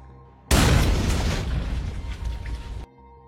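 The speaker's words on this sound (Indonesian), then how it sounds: "Ledakan terjadi di luar markas kelompok ini" A loud explosion, a bomb set off by a phone-linked detonator outside a base, bursts suddenly and roars for about two seconds before cutting off abruptly, leaving a quiet low hum.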